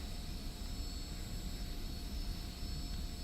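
An F-86F Sabre jet taxis in the DCS flight simulator, its engine giving a steady, even whine and rumble with a constant tone, alone and without speech.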